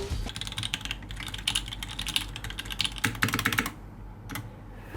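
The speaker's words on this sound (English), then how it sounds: "Nah, this is the typical mechanical keyboard I see in supermarket." Fingers type on a typical supermarket mechanical keyboard in quick, uneven bursts of clacky keystrokes, close up, then a short pause and a final couple of key presses.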